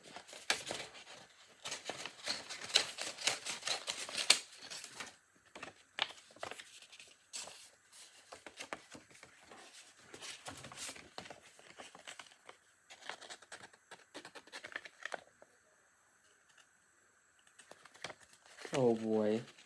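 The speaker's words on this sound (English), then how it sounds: "Cut this paper into a circle." Paper being cut into a circle with scissors: a busy run of crisp crinkling, rustling and snipping, dense at first and then sparser, with a brief voice near the end.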